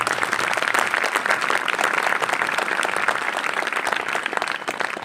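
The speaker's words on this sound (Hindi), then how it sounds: "अगर आए तो जोरदार तालियां बजाएंगे।" Loud, dense applause from a church congregation during a sermon, a steady wash of many hands clapping that holds evenly throughout and tapers slightly near the end.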